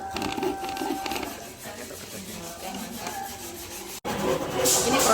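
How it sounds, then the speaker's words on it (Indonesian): Students hand-sawing wood while building a shelf in a school class project, a steady rasping back-and-forth scrape running throughout, fairly close, with a brief break near the end before the sawing resumes louder. "Gabung teman-teman ini membantu menggergaji"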